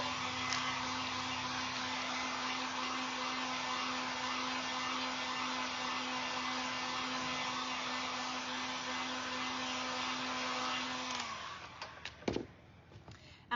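A hair dryer blows steadily, drying decoupage on a cardboard Amazon mailer made into a jack-o'-lantern, a loud continuous whir with a constant hum, then switches off and leaves a few handling knocks.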